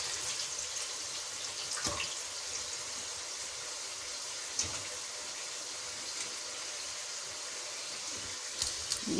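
Water is drained from soaked rice, a faint, steady trickling wash of liquid with a few soft clinks, heard alone and fairly quiet.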